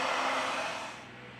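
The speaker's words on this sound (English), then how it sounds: "With the help of a heat gun, we apply 90 Celsius degrees during 4 minutes." A heat gun warms the adhesive under a Xiaomi Mi9 SE phone screen, giving a close, steady airy blowing hiss that fades slightly toward the end, with no voices.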